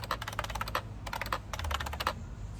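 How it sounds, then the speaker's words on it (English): Typing on a 32-year-old computer keyboard, with quick bursts of crisp, close keystrokes separated by short pauses, loud and alone with no talking. "So I think I'm gonna type a couple sentences."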